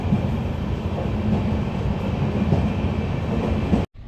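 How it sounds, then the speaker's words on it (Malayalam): Steady rumbling of a train moving along the rails, heard from on board, loud and continuous, cutting off abruptly near the end. "ഇപ്പൊ നമ്മൾ ട്രെയിനിലാണ്"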